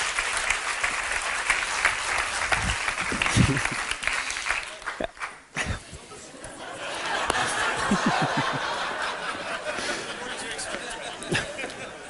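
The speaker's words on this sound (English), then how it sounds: "Give yourself a massive round of applause." An audience at an inspirational speaker's talk bursts into loud applause mixed with laughter and chatter, fading briefly midway before clapping and voices swell again.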